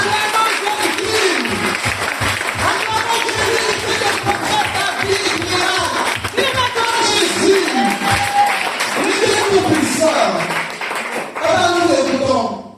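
Church congregation applauding at a worship gathering, a dense, continuous wash of clapping and crowd noise that stays loud throughout, with voices mixed in.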